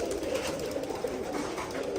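Pigeons cooing steadily in a home loft, several soft overlapping coos close by that continue without pause for the whole stretch, with no talk.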